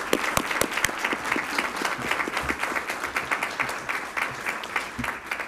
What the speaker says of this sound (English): I'd like to ask if we could give all these people a round of applause